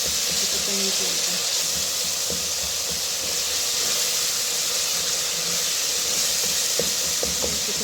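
Masala and tomatoes fry in a pan with a continuous, even sizzle and hiss, close and fairly loud, broken only by a few faint clicks of utensils.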